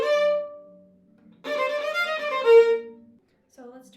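Violin plays short bursts of nine quick notes, with a gap between phrases, clear and fairly quiet in a close, dry setting.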